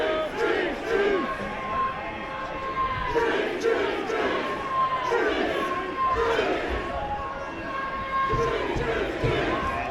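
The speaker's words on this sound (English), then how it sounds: "Crowd getting excited." A rugby crowd waiting for a scrum chants and shouts in rising, rhythmic bursts, loud and dense, with scattered voices throughout.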